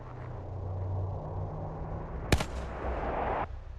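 A single sharp gunshot rings out from Black Ops 3 multiplayer, a loud broadband crack standing out over a steady low game rumble and ambient noise.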